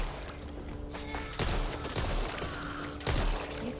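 Propane tank shot and bursting in the zombie shooter Back 4 Blood, heard as two heavy blasts about a second and a half apart, loud and close, set against constant gunfire and game noise.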